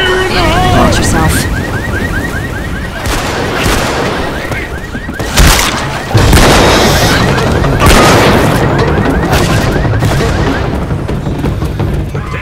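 Grenade blast in a tactical shooter game, a loud boom landing midway through a stretch of sporadic gunfire and a repeating chirping alarm-like tone, with players talking around it.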